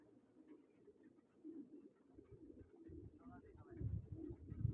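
Low, soft pigeon cooing repeats in the background, growing louder toward the end, with voices talking over it.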